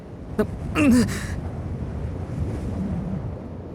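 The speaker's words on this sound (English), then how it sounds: "A strong gust of wind whipped through his hair." A strong wind gusts high up on a tall track in the video game Witch on the Holy Night, a steady rushing roar throughout with a brief tonal cry and a short swell near the start.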